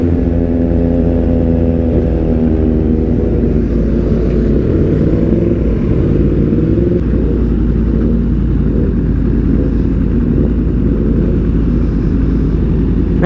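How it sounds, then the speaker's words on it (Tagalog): A Yamaha MT-10 SP crossplane engine rumbles close by, a deep steady idle with low harmonic throb that shifts slightly in pitch after a few seconds, continuous and loud without speech. "Sarap ng crossplane, hindi ganun kaingay."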